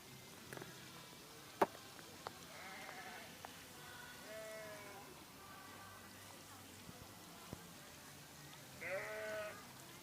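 A few short sheep and lamb bleats sound at a moderate distance on a sheep farm in Montana, separated by pauses, with outdoor background noise and occasional voices.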